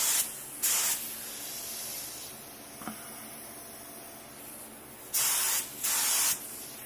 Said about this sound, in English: So first I'm going to just check some settings on the gun, make sure it's spraying decently.